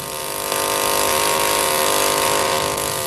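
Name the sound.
diamond drill obtaining cores of lava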